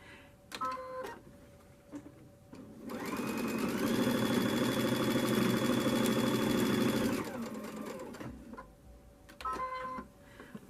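A sewing machine stitches lace onto a chenille Christmas pillow, with a steady whirring, rhythmic run of several seconds and softer start-and-stop bursts before and after.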